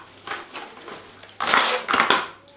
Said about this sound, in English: And give that a quick mix